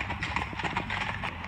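Horses' hooves clip-clop steadily on a country road, a continuous rhythmic clopping at moderate distance with light background noise.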